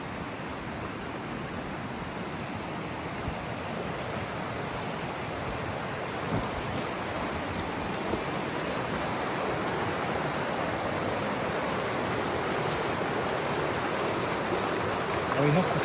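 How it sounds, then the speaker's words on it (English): A loud river rushes steadily beside a rainy campsite, its broadband roar continuous and close for the whole stretch, with a few faint knocks above it. "The river is loud."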